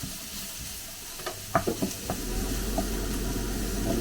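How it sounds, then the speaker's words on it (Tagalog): Onions frying in a pan for pork belly lechon sisig, a soft steady sizzle with a few stirring clinks and scrapes of the utensil, close and fairly quiet. "hintayin lang natin itong mga kaberks na talagang maluto itong sibuyas"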